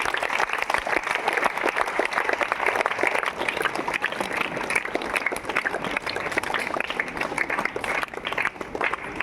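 Sustained audience applause at a felicitation event honoring a JPSC 231st rank holder, dense continuous clapping filling the room at steady loudness for the full stretch, no voices standing out.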